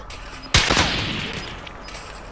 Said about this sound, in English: Wait, where am I getting shot?